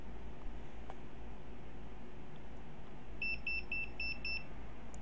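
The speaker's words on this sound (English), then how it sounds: "I'm pretty sure this thing beeped at me because, like, hey, I've been on a long time." An electronic device from an AM/FM radio soldering kit beeps repeatedly, a run of about six short regular beeps over steady low background hiss with no talking.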